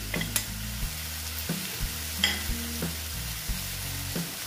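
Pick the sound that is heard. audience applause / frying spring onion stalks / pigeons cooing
frying spring onion stalks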